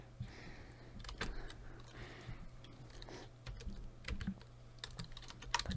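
Computer keyboard keys typed in quick, irregular clicks while entering a code during a Roblox game, faint and close over a low steady hum.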